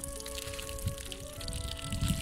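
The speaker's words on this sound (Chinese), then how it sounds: "这小水声听着一个爽啊" Water runs from a full rain-barrel storage tank in a home garden, a faint, continuous pouring and trickling with soft splashes over a low background hum.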